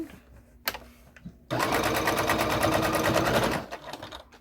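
Home sewing machine running a short burst of back stitching on reusable cotton unpaper towels, a steady rapid whir lasting about two seconds after a few quiet handling clicks, close and loud, with no talk.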